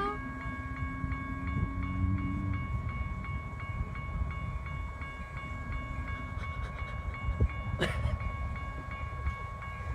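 A passenger train led by cab car 8526 rolls past with a steady, loud rumble and clatter of wheels on the rails. Sustained tonal ringing, likely from a K5LA horn or crossing bells, runs through the rumble.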